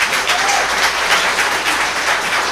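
Audience at a planning board meeting applauding a speaker, a loud, dense wash of clapping from many hands that stays steady throughout.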